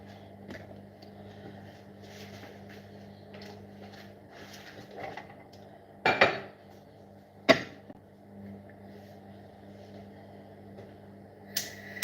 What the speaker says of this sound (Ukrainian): Ріжу цибульку, так як попало.